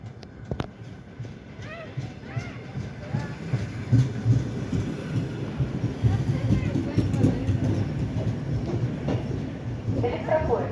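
Electric commuter train at a Moscow station, a low rumbling roll with faint rhythmic clatter building and holding steady over ten seconds, with station noise and distant voices around it.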